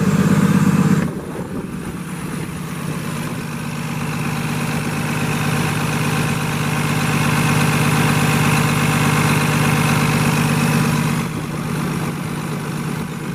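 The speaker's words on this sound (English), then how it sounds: "We're gonna climb out, let you take a listen to the engine." A 2012 Freightliner Business Class M2 106 diesel truck engine idles with a steady low rumble and rattle, starting with a louder hum that drops, then running evenly throughout.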